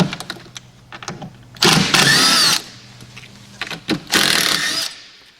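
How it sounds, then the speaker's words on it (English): A power tool removes screws from a bracket holding down a power cord while a Harvest Saver is uncrated, in two loud whirring bursts separated by quieter handling clicks and knocks. "We're going to go ahead and remove the screws from the bracket that holds the power cord down"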